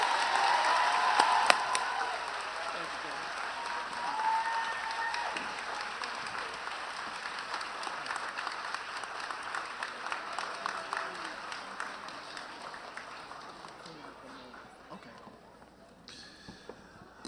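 An audience applauds Reverend Al Sharpton at the Brooklyn Lab High School graduation, with a dense, sustained round of clapping that starts strong and gradually tapers off over many seconds.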